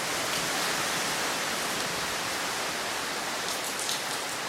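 Heavy storm rain pours steadily outside a cottage, a dense continuous hiss of water falling and running off an overflowing gutter, loud and unbroken with no voices.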